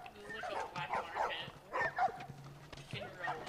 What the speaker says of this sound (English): You got a lovely puppy.